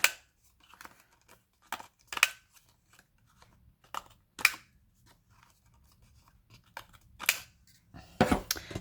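Scissors snipping a small paper card, with short, crisp cuts spaced irregularly, some single and some in quick pairs, near and clear against a quiet room.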